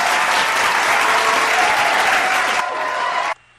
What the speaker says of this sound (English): we're just going to give us a little cheer